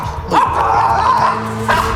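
Flora, an agitated dog, barks and yips repeatedly at other dogs on a walk down an alley, her loud, close, strained bursts coming in quick succession.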